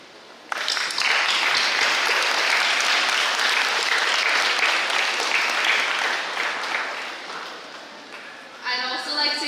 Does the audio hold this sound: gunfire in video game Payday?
no